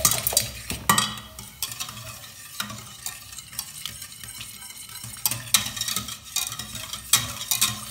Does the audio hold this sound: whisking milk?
yes